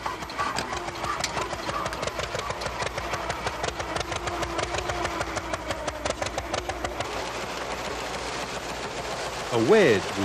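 An old farm engine chugs steadily in rapid, even beats close by, a mechanical thumping that continues for about ten seconds before a brief rising whistle-like tone near the end.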